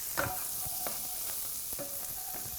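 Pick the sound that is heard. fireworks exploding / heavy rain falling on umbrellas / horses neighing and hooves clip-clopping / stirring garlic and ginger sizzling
stirring garlic and ginger sizzling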